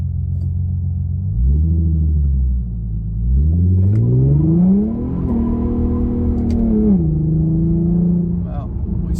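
An Infiniti Q50 spinning its nearly new tires on warm pavement, the engine revving up and down through several loud rising and falling sweeps, close by.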